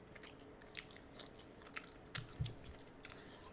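Quiet, close-up chewing of french fries topped with poured cheese from a Popeyes meal, with soft crunchy bites and wet mastication sounds in irregular bursts and no talking.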